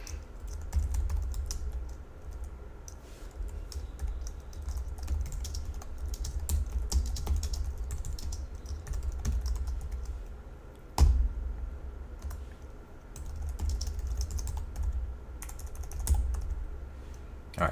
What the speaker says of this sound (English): I want to type this code